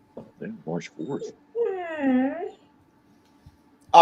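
A dog lets out a drawn-out, wavering whimper. It rises and falls for about a second, after a few brief, softer vocal sounds, in an otherwise quiet room.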